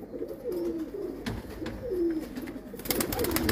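Pet pigeons cooing nearby, several soft throaty coos rolling in a repeating rhythm, close and clear with a little rustling in the background.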